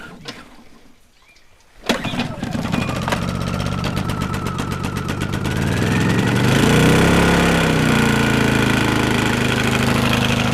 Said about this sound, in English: but it's an old generator, so...